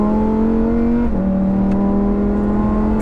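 Lamborghini Huracan STO with a 5.2-litre naturally aspirated V10 revving hard, a loud, steady high-pitched engine note that dips briefly and climbs again, close and continuous with no talk.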